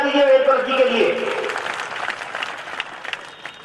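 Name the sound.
audience applause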